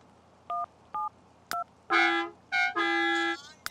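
In The Sims 3, a quick run of electronic keypad tones is dialed on a phone to call a repairman, followed by several longer synthetic ringing or connecting tones, clean and close with no talk.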